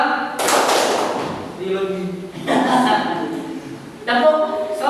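Rhythmic group clapping in a classroom-style teacher training session, several short bursts of claps interleaved with voices calling and chanting in unison nearby.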